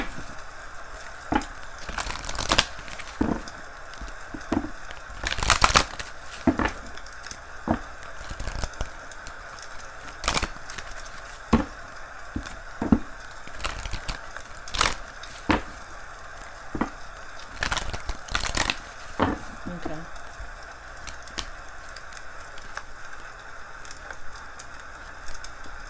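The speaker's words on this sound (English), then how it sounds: "I got a little like rain ambiance with the little fireplace" Gentle rain ambiance mixed with a small crackling fireplace, heard as steady soft patter with scattered sharp pops and snaps recurring throughout at moderate, close volume, with no talking.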